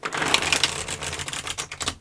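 Tarot cards shuffled by hand close to the microphone make quick, dense, rapid clicking riffles in a fast irregular rhythm, with no talking over them.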